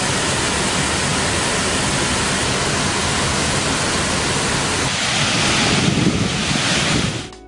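The Kuntala waterfall on the Kadem river, set among forested hills, gives a steady, loud, broadband roar of falling water that holds throughout before cutting off abruptly near the end.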